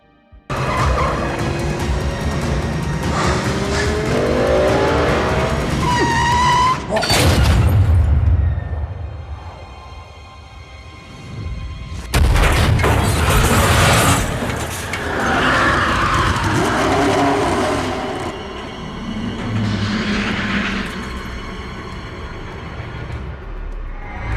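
Racing cars in driving scenes from the 2014 film Need for Speed: loud roaring engines, tire squeals and skids with sharp booming impacts, shifting between sustained revving passes and sudden crashes.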